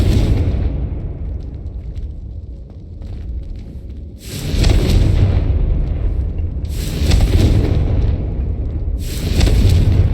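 Explosions from the Confringo spell in the Hogwarts Legacy video game, a series of loud booming blasts with rumbling tails, several bursts spaced a second or two apart over a low background drone.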